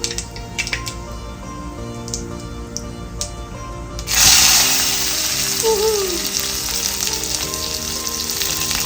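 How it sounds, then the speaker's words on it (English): Cumin seeds hit hot oil with a sudden burst of loud, steady sizzling and crackling, close up, continuing without talk after a few quiet kitchen clicks. "There goes the jeera, sizzling away, crackling away."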